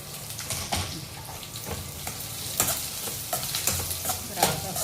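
Finely sliced onions and green chillies fry in a pan for a ridge gourd dish, with a close, busy sizzle broken by repeated scraping stir strokes and no talking.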